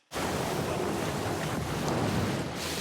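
Rushing water of river rapids in a One Piece episode, a loud, steady broadband roar that runs alone without pause from start to finish.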